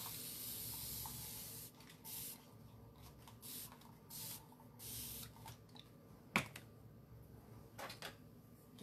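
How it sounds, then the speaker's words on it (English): A spray bottle mists water over a magnetic chalk stencil in a series of short, close hissing bursts with quiet gaps between them, plus one sharp click partway through. "So let's get this one sprayed and we'll clean him."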